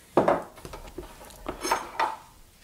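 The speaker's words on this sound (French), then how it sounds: "je récupère ma casserole bien chaude" A hot saucepan is lifted in a home kitchen while making a creamy white chocolate cake, giving a few close metallic clinks and knocks of pan against stovetop and utensils, spread over a couple of seconds.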